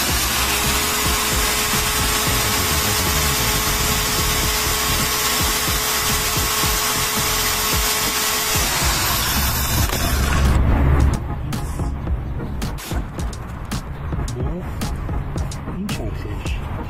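A 550-watt, 1000 RPM power drill driving a single-phase synchronous generator whines steadily at high speed, then its tone drops and becomes rougher and lower near the end, loud and close.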